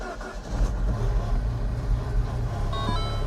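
A rebuilt Mini Cooper S engine cranks and catches, its low mechanical churn holding steady and fairly loud throughout with no talking.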